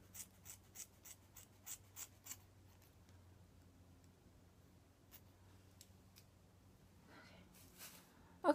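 Scissors snip through hair in a quick series of about eight crisp cuts close by, followed by quieter, sparser snips and rustling, with no talking.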